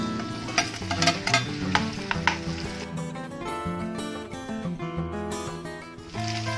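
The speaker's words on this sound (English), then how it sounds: "In the same pan, add little more oil. Add the bhendi." Okra (bhendi) hits hot oil in a pan and fries with a steady sizzle and occasional stirring knocks, heard under prominent background music throughout.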